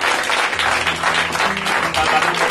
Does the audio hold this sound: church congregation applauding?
yes